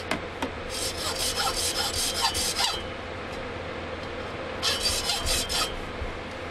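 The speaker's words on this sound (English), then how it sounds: "This saw bites good, and there's not a lot of material to go through." A hand saw rasps through an old fiberglass tent pole in two bursts of quick, scratchy back-and-forth strokes separated by a short pause, close and fairly loud with no talking.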